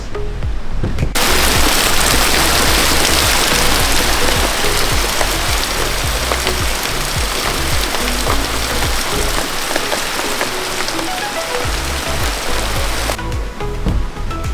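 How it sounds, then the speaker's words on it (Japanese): Heavy rain pours down outside an old hundred-year-old Japanese farmhouse under demolition, a loud continuous roaring wash of water that fills the whole stretch, starting and stopping abruptly. "外は大雨でございます。"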